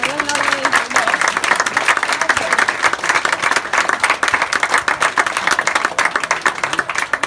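Sustained, dense applause from an audience at an under-10s youth football presentation evening, with clapping close and loud throughout and voices mixed in.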